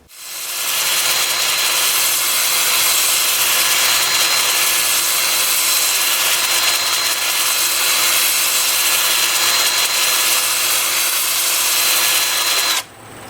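Sandpaper presses against a cherry wood bowl turning in reverse at 310 RPM on a lathe, a loud continuous hissing rasp with a steady motor whine, starting abruptly and cutting off near the end.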